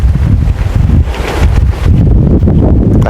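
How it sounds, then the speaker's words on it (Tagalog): Strong wind buffets the microphone continuously at a beach campsite in Bani, La Union, at dusk, a loud rumbling roar with gusts that swell and ease, and no one speaks. "Lakas ang hangin dito."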